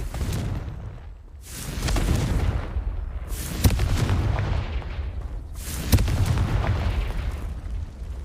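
Confringo spell blasts in a wizard video game, three booming bursts spaced a couple of seconds apart, each with a sharp crack and a rumbling tail over a dense background.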